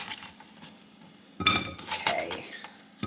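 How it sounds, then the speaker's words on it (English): Sliced cucumbers are tipped into a glass dish in a home kitchen, making a sudden clattering clink followed by a few smaller knocks and a soft sliding rattle, close by with no talk. "I'm going to transfer these over to a glass dish."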